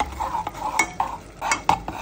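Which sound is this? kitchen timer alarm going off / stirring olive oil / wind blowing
stirring olive oil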